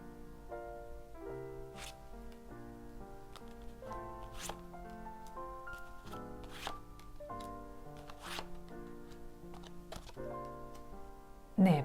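Tarot cards are shuffled and drawn in a quiet room, soft papery flicks and slides repeating unevenly over a light musical background, ending with a louder rustle.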